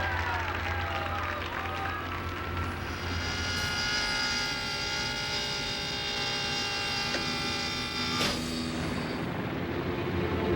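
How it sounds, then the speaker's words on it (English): A cargo plane carrying a whale climbs into the pre-dawn sky, its engines a sustained droning roar with whining tonal layers that hold steady throughout. "As they ascend into the pre-dawn sky, Keiko begins his journey"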